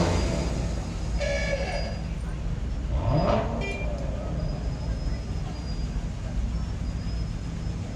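Classic cars roll past during a Veterans Day parade in Lake Havasu City, Arizona, a steady engine rumble with one vehicle sweeping by midway, while people talk nearby.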